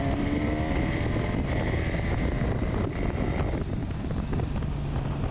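A Honda Hornet 1000SP motorcycle rides at speed, its engine a steady loud hum with pitch shifts under heavy wind roar, and no voices.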